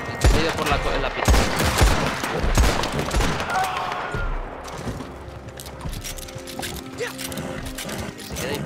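Loud video game gunfire cracks out in irregular bursts of sharp shots, densest early on and thinning toward the end, with a soft voice under it.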